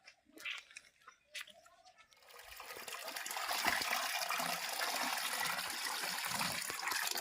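After a couple of soft knocks, water starts pouring for cows to drink and keeps gushing steadily, a continuous splashing rush that holds to the end.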